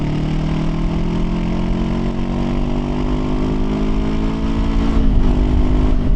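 A Honda NX500 motorcycle engine drones while being ridden, a loud, close, steady mid-pitched hum with a slight rise in revs near the end and wind rumble underneath.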